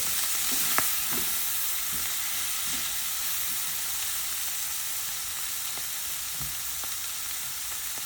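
Dried sprats hiss and crackle steadily in a hot frying pan, with occasional soft scrapes and knocks from stirring over the continuous sizzle; no voices.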